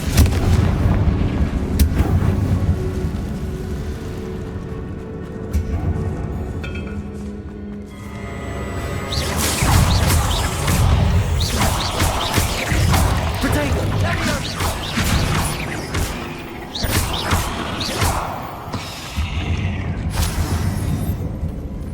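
Repeated Confringo fire spells explode in Hogwarts Legacy, heavy booming blasts with crashing impacts arriving in irregular bursts, loud and close, with voices talking over the fight.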